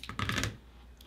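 Quilting fabric being cut in one quick, crisp rotary-cutter pass along a ruler, brief and close, followed by quiet.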